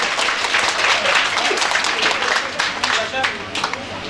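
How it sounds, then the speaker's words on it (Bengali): Audience applause at a college prize distribution ceremony, a steady, fairly loud wash of clapping from a crowd, with a voice speaking over it. "তোমরা সবাই একটু জোরে হাততালি দাও।"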